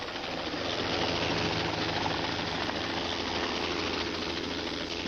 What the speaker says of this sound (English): while the chopper took Eric Beecham and Melissa Sullivan to safety.